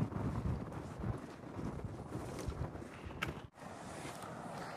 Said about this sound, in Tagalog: Tsaka mahangin masyado. Malamig.